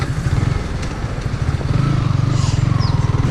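Yamaha MT 15 motorcycle being ridden, its engine giving a steady rhythmic low thrum that rises slightly in pace, close and loud with road and wind noise.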